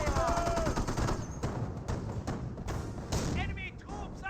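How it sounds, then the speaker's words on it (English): A Company of Heroes 1 battle crackles with rapid bursts of machine-gun and rifle fire and heavy thuds, loud and continuous, mixed with short in-game voice calls. "Enemy troops are firing"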